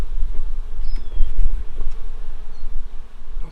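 Bees buzz steadily at an open beehive during a warm-weather hive inspection, a dense, close, continuous drone with no voices.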